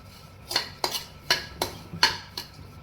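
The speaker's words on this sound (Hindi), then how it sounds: "इसी में कुछ हम ये किशमिश डाल देंगे। इनको भी हम थोड़ी देर के लिए रोस्ट कर लेंगे।" Raisins and dry fruits are stirred and roasted in a pan, with about six sharp clinks of a metal spoon scraping against the pan at an uneven rhythm, close and clear.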